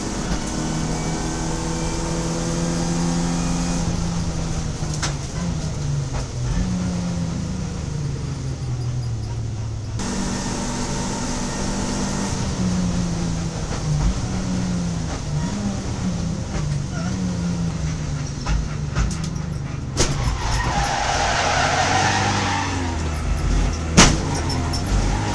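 Renault Clio Cup race cars on a circuit in a Middle East series, engines droning and shifting pitch as they brake hard into a corner, with a commentator talking over the continuous track noise.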